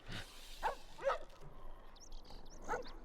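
Dogs in The Last of Us video game bark in a few short, sharp bursts at moderate distance, set against game ambience with some faint high tones, with no talking.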